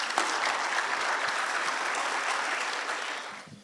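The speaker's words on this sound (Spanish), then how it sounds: "Le damos un aplauso también para recibirlo." Dense, steady audience applause fills a university water-forum hall as a global-warming speaker is welcomed, holding level for several seconds before tapering off at the end.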